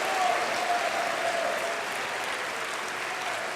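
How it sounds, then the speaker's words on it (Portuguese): A church congregation at a Bible study on Revelation gives a strong round of applause, dense and steady clapping throughout, loud at first and holding level before easing slightly. "Dá um aplauso forte"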